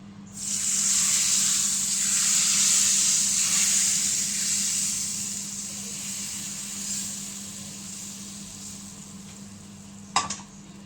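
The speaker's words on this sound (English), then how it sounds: "just pour that over. You should hear a sizzle." Loud hiss and sizzle of hot spiced oil poured over tarka dal, fading gradually over several seconds, followed by a brief sharp clink near the end.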